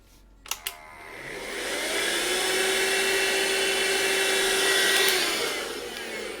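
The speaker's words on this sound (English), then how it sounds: "I just want to vacuum this" A vacuum cleaner runs in a pastel painting studio where work is done on Pastelmat. It switches on after a couple of clicks and holds a steady, fairly loud whooshing drone with a faint whine for about five seconds before easing off.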